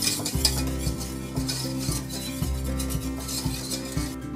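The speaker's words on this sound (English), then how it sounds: "I'll give a nice whisk" Brisk whisking scrapes around a bowl of Gujarati kadhi batter, steady and close, with background music playing underneath.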